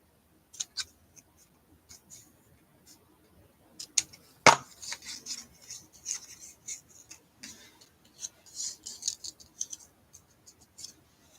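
Scissors trimming the ends of a knotted loop on a handmade bunny card, a few faint close snips and small crisp clicks amid quiet rustling.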